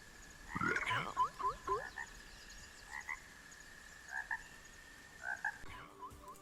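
Frogs croaking in the Hytale video game, a loud burst of clustered croaks followed by short, spaced pairs of croaks, each standing alone over a faint steady background tone.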